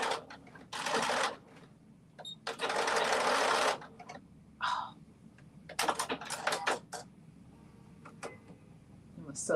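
A sewing machine stitching McCalls 8555 pattern pieces, running in several short, fast whirring bursts separated by pauses, with light clicks and handling noises in between, close and fairly quiet.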